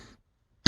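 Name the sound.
coughing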